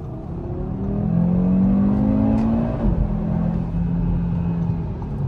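An Audi RSQ3 engine swells as it accelerates hard to overtake on a country road, a rising, loud rumbling tone that peaks and then settles into steady cruising.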